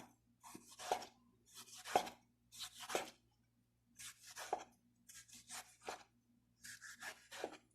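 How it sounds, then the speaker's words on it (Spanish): A knife chops tomatoes on a board in regular, close strokes, about ten dry cutting taps spaced roughly a second apart with quiet gaps between them. "picamos también los jitomates"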